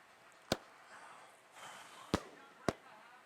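Three sharp firework cracks from a crown jellyfish firework in a video game, spaced unevenly over a faint hissing background, crisp and fairly loud.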